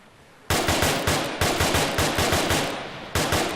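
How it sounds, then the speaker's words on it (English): Rapid bursts of gunfire ring out after a quiet start, sharp repeated shots in quick rhythmic volleys, loud and close, with a brief gap before another burst near the end. "Multiple gunshots once again."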